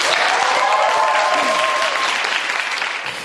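An audience at a dance callback event bursts into loud, continuous applause with cheering and a few whistles. The clapping dense and close, fading slightly at the end.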